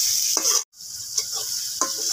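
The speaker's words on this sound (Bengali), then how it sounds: "মশলাটা কিন্তু ভালোভাবে ভেজে নেব তেলে" Onion, green and ripe chilli and chunky tomato masala frying in oil for a village-style saag, with a steady bright sizzle and a few scraping stirs, a brief gap near the start.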